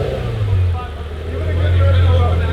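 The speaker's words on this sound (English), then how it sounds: "Do a big rev." A Lamborghini Gallardo Superleggera with a Kline Inconel X-pipe exhaust idles with a deep, steady rumble, which swells as the engine is revved up, loud and close. Voices talk over it.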